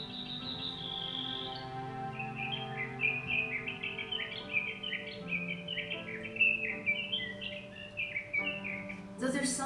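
Sage thrasher and Brewer's sparrow songs in sagebrush country, a steady run of high trilling, warbling phrases layered over a continuous background hum, moderately loud and without talk.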